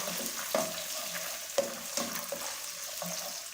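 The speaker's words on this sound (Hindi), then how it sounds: "अभी हम इसके अंदर ये प्याज डालेंगे और प्याज हम फ्राई कर लेंगे" Onions fry in hot ghee for a yogurt mutton curry, a steady close sizzle broken by several sharp spoon scrapes and clinks against the pan.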